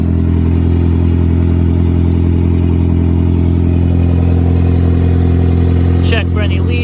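A car engine idles steadily just after starting, a loud, constant low rumble with a mechanical drone and no change in pitch, and a voice briefly sounds over it near the end.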